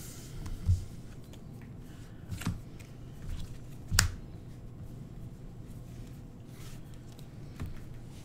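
A Magic: The Gathering card deck is shuffled by hand. Sparse soft riffles and taps are heard, with a few sharper clicks, fairly faint against a quiet room hum.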